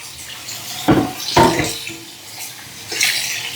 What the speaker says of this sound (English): Some little bit of water in here. It's hot water.